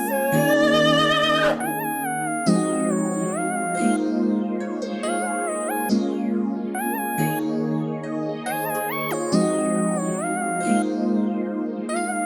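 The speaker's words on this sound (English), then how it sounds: "I just have a nice little lead pattern going on." Synth lead melody pattern built in FL Studio, a bright plucky line of repeating stepped notes over sustained chords, playing loud and steady with no voices.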